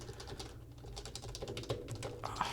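Quiet, steady typing on an HHKB Professional Classic keyboard, soft rapid keystrokes clicking close up with no talking.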